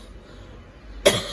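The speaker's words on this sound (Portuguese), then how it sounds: "O que que é essa tosse aí?" A single sudden cough breaks in near the end, coming after a stretch of quiet room noise with nobody talking.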